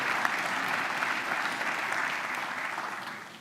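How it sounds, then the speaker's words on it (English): A press conference audience gathered for a new head coach's introduction applauds in a full, continuous burst of clapping that holds steady and eases slightly toward the end. "Let's give her a round of applause"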